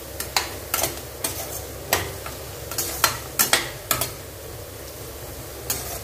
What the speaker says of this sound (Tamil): அந்த எண்ணெயிலே நல்லா முருங்கைக்காய் முள்ளங்கி கேரட் வெந்து வரணும். அந்த அளவு வதக்கிக்கொடுங்க.